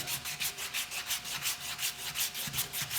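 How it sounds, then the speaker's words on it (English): Sandpaper rubbed by hand along a wooden spatula, following the grain in an even back-and-forth rhythm of about four strokes a second, close and steady, with no talking. "now I'm going to just hold it in one hand and sand in the other"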